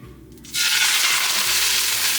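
Raw chicken hitting a hot, freshly oiled pan for creamy sun-dried tomato chicken: quiet at first, then a sudden loud, close sizzle that holds steady and bright without letting up.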